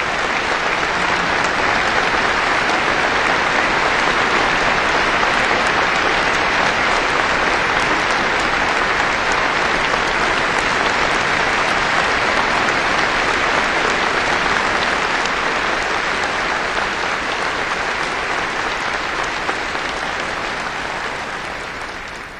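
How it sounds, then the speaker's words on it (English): A concert audience gives a singer loud, sustained applause, dense and even for over twenty seconds before easing off at the very end. "Give her an enormous applause"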